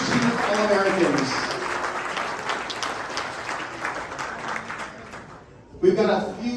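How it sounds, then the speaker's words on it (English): A crowd at the 2023 AVCA All-America social reception claps for the collegiate first-team All-Americans, with a voice talking over the applause at the start and again after a brief lull near the end. "Let's have one more round of applause for all the 2023 AVCA National Collegiate first-team All-Americans."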